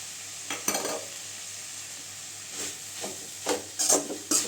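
Banana flower poriyal fries in a pan under a soft, steady sizzle, broken by several scraping stirs that come closer and louder toward the end, with no one talking.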